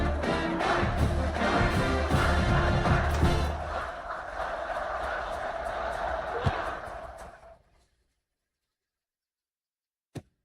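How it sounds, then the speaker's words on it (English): Stadium crowd in the College Football 26 video game during an Ole Miss game, a dense, loud roar with cheering and whoops for several seconds that fades out abruptly, followed by silence and a single sharp click. "this crowd is feeling themselves after that last drive"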